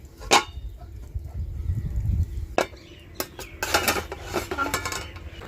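Metal pot and lid clatter in a village kitchen as a lid covers small pieces of green mango boiling in water, with several sharp clanks and scrapes over a low stove rumble.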